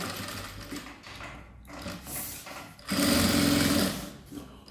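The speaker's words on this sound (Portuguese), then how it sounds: "eu tô costurando bem na beiradinha da minha peça, é só para fixar mesmo o meu espelho no meu forro" A sewing machine stitches along the edge of a fabric piece, fixing a lining to its backing, its motor whirring in steady runs that speed up and grow louder toward the end.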